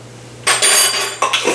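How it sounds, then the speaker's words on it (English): A spoon is picked up off a kitchen counter while making tomato soup, giving a few bright metallic clinks and clatters of cutlery against dishes, close and fairly loud, with no talk. "I'm going to go ahead and get just a spoon from the counter"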